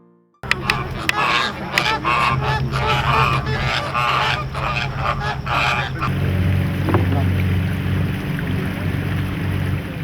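A dense flock of white pelicans at a Djoudj wetland calls with many overlapping honking grunts, loud and continuous, mixed with wind and a boat's hum on open water.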